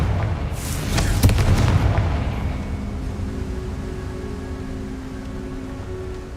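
A Confringo fire spell detonates in Hogwarts Legacy with a loud booming blast near the start, then rumbles and fades into a steady low ambient drone.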